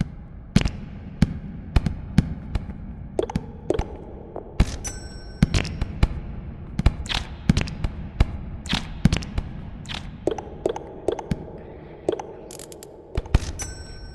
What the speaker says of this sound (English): I had to let that one explode.